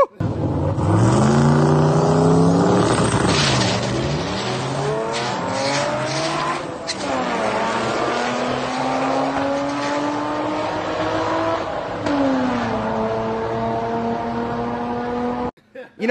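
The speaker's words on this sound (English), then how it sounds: "Took the car to Rockingham Dragway this past weekend" Car at Rockingham Dragway making a drag racing pass, its engine rising in pitch through loud sustained revving across several gear changes, with a brief lift around the middle and continuous loud engine drone to the end.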